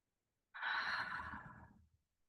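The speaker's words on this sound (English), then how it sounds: "put it in my hands, rub them together and breathe it in" A close, soft rush of breath as someone draws essential oil scent from their rubbed-together palms, one long inhale lasting under two seconds, followed by silence.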